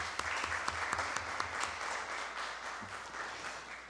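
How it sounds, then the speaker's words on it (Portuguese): Applause at a seminar on children's and adolescents' rights in Santa Maria as a panelist is introduced, with a few sharp individual claps standing out early before the clapping softens into a denser, fading patter. "Uma salva de palmas para ela"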